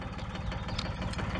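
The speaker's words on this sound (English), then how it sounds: "Now, I've got my old 1981 tractor out here hooked up." A 1981 tractor engine runs steadily close by, its low, throbbing idle pulsing in a rapid even rhythm with mechanical rattle, loud and continuous without any talk.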